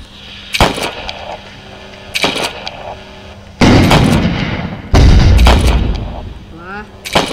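Video game gunfire in a sniper match, with several loud broadband bursts: two short shots early, then two longer heavy booming volleys, and voices talking between the blasts.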